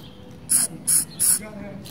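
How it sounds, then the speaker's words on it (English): Three quick hissing bursts of an aerosol bug spray, evenly spaced, close by over a faint background murmur. "If you out here wasting bug spray."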